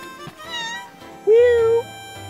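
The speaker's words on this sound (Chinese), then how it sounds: "为什么又有一只新来小猪猫咪啊？" A cat gives a loud, close meow that rises and then falls, with a second, quieter mew just before it. Faint background noise sits behind the meows.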